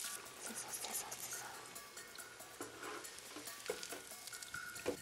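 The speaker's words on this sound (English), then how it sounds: "Drop them into sizzle. They'll fry for just about 1 minute." Steady crackling sizzle of avocado wedges frying in hot oil, with brief clinks and scrapes on top and faint murmuring in the background.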